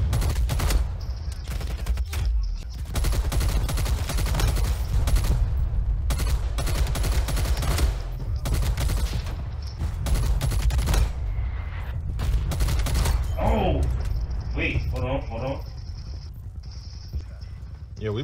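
KSP 45 submachine gun in Black Ops Cold War, repeated rapid bursts of gunfire with other shots in the match, loud and dense, with a player talking over the action.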